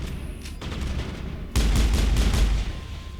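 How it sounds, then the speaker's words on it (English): Turrets blown up in the Mass Effect 1 video game, heard as a burst of rapid explosive gunfire that swells into a louder booming volley midway, then eases back; no speech. "I don't really think I needed to blow up those turrets in the long run"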